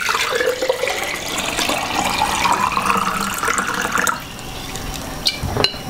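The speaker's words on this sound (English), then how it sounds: "So I'm going to put 1 quart of water into it." A quart of water poured into a jar of brine for pickling cauliflower: a steady, close splashing stream with rising pitch as the container fills, then a short pause and a few clunks.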